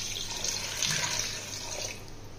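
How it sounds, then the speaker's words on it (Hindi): Water runs from a tap onto 500 grams of mutton sitting in a strainer in a kitchen, a steady close splashing stream that eases slightly toward the end, with no voices. "पानी डाल देना है"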